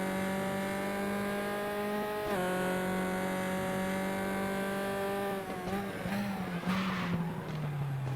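Tyres locking up on a Tatuus Formula 4 car at Zandvoort in the RaceRoom racing game, on worn tyres: a steady, loud engine drone steps down under braking, then a rough skidding scrub breaks through before the engine carries on.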